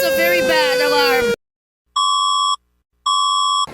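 Two steady electronic alarm tones from the Philippines emergency alert system sound in separate bursts with a short silence between them, after a stretch of someone speaking.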